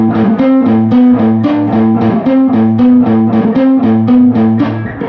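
Distorted electric guitar plays the opening riff of a song, a repeating pattern of low palm-muted notes and ringing higher notes in steady triplet rhythm, loud and close with no talking.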